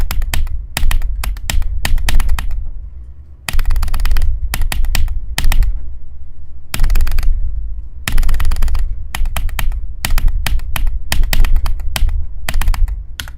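Rapid mouse clicking while playing a video game, dense bursts of fast clicks packed into clusters with short silent gaps between them, loud and close.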